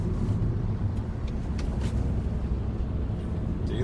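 Chevrolet Aveo 1.6 with manual transmission running in third gear, a steady low engine drone with road and wind noise heard from inside the car.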